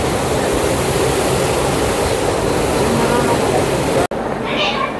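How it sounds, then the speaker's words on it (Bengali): Water roars through the many open gates of a river barrage at night, a loud, dense, unbroken rush heard from a train crossing nearby, cut off abruptly near the end. "গেট ব্যারেজের অনেকগুলো গেট খোলা আছে, জলের আওয়াজ পাওয়া যাচ্ছে বেশ জোরে"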